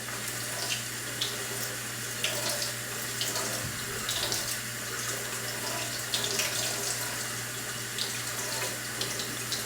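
Cold tap water pouring steadily over a glass bottle in a sink, a continuous close splashing rush with a low hum underneath.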